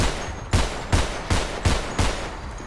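Five evenly spaced gunshots ring out in GTA 5 roleplay set in a Brazilian favela, each a sharp loud crack with a short decaying tail, about one every 0.4 seconds, with no talking.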